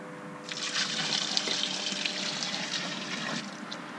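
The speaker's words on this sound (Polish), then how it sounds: "Tu mamy gorącą wodę, prawie że wrzątek, którą teraz tu wleję" Nearly boiling hot water is poured into a washing machine in Almaty, a continuous splashing, gushing stream that starts quickly and runs steadily for several seconds at close range.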